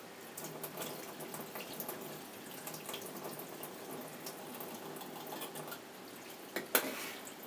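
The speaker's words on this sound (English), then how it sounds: "run a water rinse on my film when I'm done with it." Water runs steadily from a tap as developed black and white film is rinsed, a soft continuous splashing with a sharper clatter near the end.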